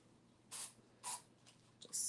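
Three short hissing bursts of spray into the bottom of a mold for clear resin casting, close and sharp, separated by brief pauses over quiet background noise.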